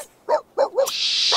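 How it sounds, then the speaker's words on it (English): Dog barking in The Sims 3, two short close barks followed by a quick yip, then a steady hissing game sound underneath. "Stupid dog."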